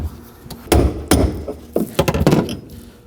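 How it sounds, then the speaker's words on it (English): A brass hammer strikes the fuel pressure regulator retaining ring on a 2011-2016 Kia Optima, giving about seven or eight sharp metallic taps in an uneven rhythm, close and loud. "we want to go ahead and spin this ring, hitting it with a hammer"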